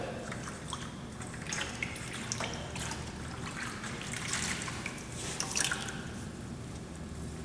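A wet rag pressed against hot, freshly brazed metal to cool it, giving a soft continuous sizzle and hiss with faint dribbling water. It sits close and steady, with brief louder flare-ups partway through and no talking.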